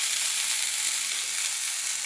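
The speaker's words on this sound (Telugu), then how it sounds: "దీంట్లో చివరిగా వచ్చేసి టమాటాలు, రెండు టమాటా ముక్కలు వేద్దాం." Tomato pieces fry in hot oil with bitter gourd in a pan, giving a steady, close, even sizzle and hiss throughout, with no voices.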